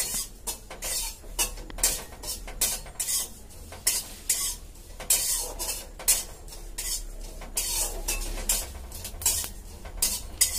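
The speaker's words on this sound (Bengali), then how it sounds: "সামান্য পরিমাণ সাদা জিরা ভেজে নিচ্ছি" White cumin seeds fry in a pan with a soft sizzle under repeated rhythmic scraping and clinking of a metal spatula against the pan, steady bursts throughout.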